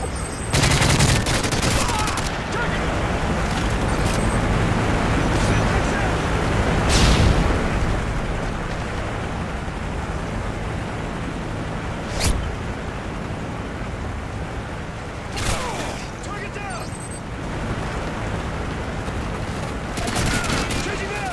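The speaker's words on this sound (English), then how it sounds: "Friendly strafe run incoming." A strafe run in a video game sends loud, dense bursts of gunfire and blasts rolling across the battlefield. Sharp individual cracks and rumbling impacts punctuate a continuous roar.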